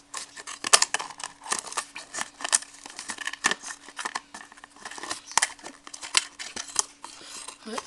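Scissors snipping around the white rim of a plastic margarine tub while making a homemade craft tricycle, a quick run of close, crisp cuts with light plastic crinkling and a steady faint hum underneath.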